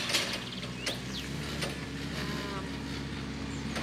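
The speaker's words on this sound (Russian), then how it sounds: "Вот прямо сейчас у нас проехал трактор." A tractor drives past in a park, giving a steady mechanical rumble with rattling, clanking bursts at moderate distance that continue throughout.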